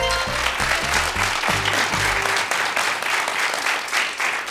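A studio audience on a televised quiz show breaks into loud, steady clapping. A musical sting plays under the first couple of seconds before the applause continues alone.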